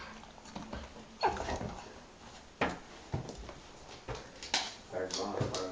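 A pet dog whimpers and snuffles in soft, intermittent bursts indoors, quiet and close, with people talking nearby.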